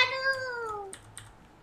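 Cat meowing in a motel room: one long, clear, slightly falling meow up close, then a couple of faint clicks and taps.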